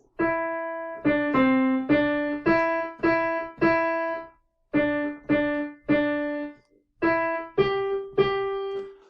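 Piano notes in a dotted, long-short rhythm, played alone in short phrases separated by brief rests, clear and fairly loud.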